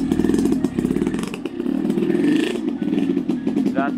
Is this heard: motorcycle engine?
yes